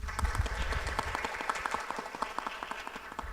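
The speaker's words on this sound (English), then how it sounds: "Please welcome and give a round of applause for Rosa Duffy." An audience applauds Rosa Duffy at a panel on Black-owned bookstores, a moderate crowd clapping with distinct individual claps audible within the steady patter, lasting a few seconds at medium distance.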